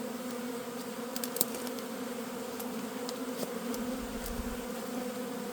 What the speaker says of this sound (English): I will open this so bees can enter